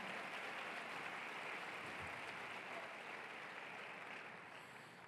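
Dense, steady applause from a church congregation at a conference fills the room, loud and sustained throughout, easing slightly toward the end.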